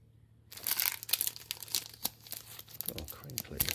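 Crinkly plastic packaging crackles and rustles loudly up close while a Sony Xperia XZ2 phone is unboxed, a sharp burst of dense crinkling that continues in uneven waves, with a quiet voice near the end.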